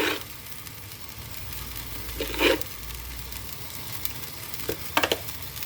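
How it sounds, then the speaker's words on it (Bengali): Spices and salt sautéing in a pan for a shing fish curry, a low steady sizzle with a few brief louder stirring scrapes near the middle and the end, no talk. "তো এটা এখন ভালোভাবে একটু কষাই নিব"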